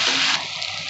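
Sliced onions dropped into hot oil in a pan for silver fish curry, a short loud hissing sizzle that bursts at once and then settles slightly, no voice.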